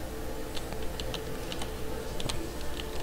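Quick, light tapping of numbers being typed on a computer keyboard, a close, quiet run of keystrokes with no talking.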